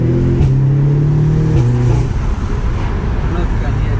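An Audi S3 or Subaru WRX accelerating hard in second gear with full throttle, its loud engine drone rising in pitch from inside the cabin, with a shift-like drop partway through.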